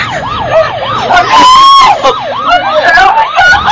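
Loud police sirens wail close by, a fast yelp pattern switching to a steady rising tone and back, with overlapping siren layers, traffic rumble and some background voices.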